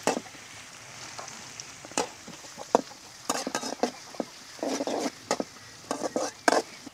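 Garlic and two green chillies sautéing in a pan of hot oil for masala bonda, a steady soft sizzle broken by repeated sharp scraping and stirring knocks, fairly close, with no talk.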